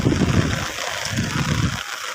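Heavy morning rainwater floods a village rice field where the crop is sinking underwater, giving a steady, close wash of rushing, splashing water that dips briefly midway and again near the end.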